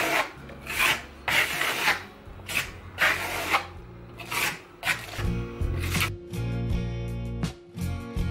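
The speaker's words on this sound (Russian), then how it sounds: "начинаем наносить нашу венецианскую штукатурку" A steel trowel spreading graphite Venetian plaster mixed with aluminium across a wall in repeated scraping strokes, each a rough rasping swipe in a steady rhythm, close and alone.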